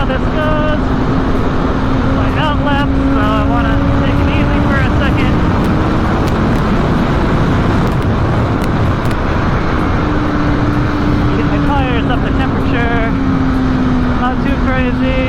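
A 2020 BMW S1000RR motorcycle lapping a race track on an easy outlap, its engine droning steadily with rising and falling pitch as it shifts gears, heard close from a helmet camera with wind roar and a rider talking over it.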